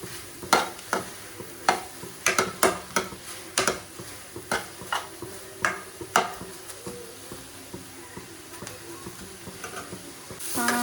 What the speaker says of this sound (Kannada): ಟೊಮೊಟೊ ಎಲ್ಲ ಸಾಫ್ಟ್ ಆಗಬೇಕು, ಅಲ್ಲಿವರೆಗೂ ಬೇಯಿಸ್ಕೊಳ್ಳಿ.